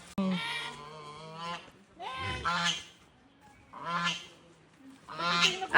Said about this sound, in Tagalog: Inaasar siya nung gansa